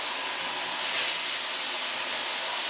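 A Dyson V15 Detect cordless stick vacuum runs on normal suction while picking up white rice, giving a loud, steady, airy whine and hiss that holds unbroken from start to finish.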